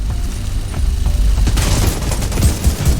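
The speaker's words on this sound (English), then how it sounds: "Our assault rifle is doing far more damage than the previous AR assault rifle." Bursts of assault rifle fire in The Division 2 rattle loudly and close, with sharp rapid shots and booming reports building into sustained automatic fire through the second half.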